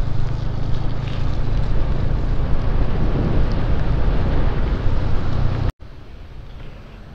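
Heavy rain pours down during a motorcycle ride, a loud, constant hiss blended with wind buffeting the microphone and a low rumble underneath, cutting off abruptly near the end before a quieter wash of the same noise continues.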